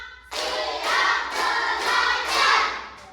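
School students clap in unison on count, producing a series of about five rhythmic bursts of many hands, close and fairly loud, following a brief spoken call at the start.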